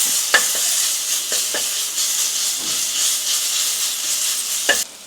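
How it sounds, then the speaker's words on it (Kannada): Ginger garlic paste sizzles and hisses steadily in a hot pan while cooking for a chicken liver pepper fry. A spoon or spatula scrapes and taps the pan a few times over the constant frying. "1 table spoon ginger garlic paste ಹಾಕ್ಕೊತಾ ಇದ್ದೀನಿ."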